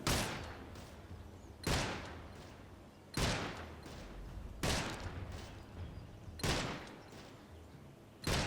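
Pistol gunshots in a video game, six sharp loud reports at an even pace of roughly one every one and a half seconds, each trailing off into a short echoing decay.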